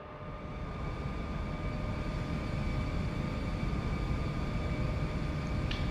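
Inside the cockpit of a plane in the X-Plane 11 flight simulator, an engine hums with a steady broadband roar and faint tonal whine, constant and moderately loud with no talk.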